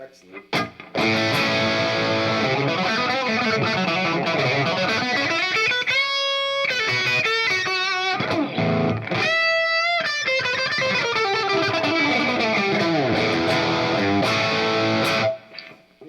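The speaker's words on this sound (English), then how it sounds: "Here it is with the reverb from the effects loop." Electric guitar played through a Marshall Plexi amp with reverb from the effects loop, sustained overdriven chords and melodic lines ringing steadily and loud for about fifteen seconds, with brief gaps between phrases.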